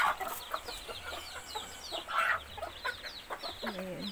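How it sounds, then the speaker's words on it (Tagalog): Blue-legged breeding hens in a backyard chicken yard at feeding time cluck and chatter, with repeated short calls from several birds over soft background noise. "Yung mga mostly po nandito yung mga inahin."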